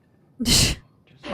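A single sharp human sneeze, loud and close, with a quick intake before it and another breathy burst following.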